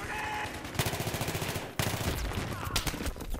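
Enemy gunfire in Battlefield 3 rattles in rapid automatic bursts, sharp repeated cracks over a busy battle backdrop, with a heavier impact midway and more scattered shots after.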